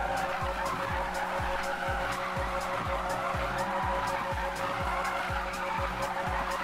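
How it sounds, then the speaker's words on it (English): Tires skid and squeal repeatedly as a car drifts in a racing video game, the engine droning underneath with a rhythmic, pulsing whine, steady and fairly quiet throughout with no talk. "I haven't stopped drifting around here, look, check me."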